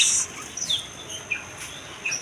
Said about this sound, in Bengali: আর এইদিকে পেয়ে যাবেন অসংখ্য বাজিকা পাখি